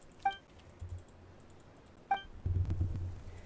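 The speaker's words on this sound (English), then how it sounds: "You can probably hear me clicking just to get through all this" Sharp isolated clicks from a computer keyboard and mouse during a game, a couple of bright taps spaced apart followed by a burst of lower rapid clatter, close and fairly quiet with no talking.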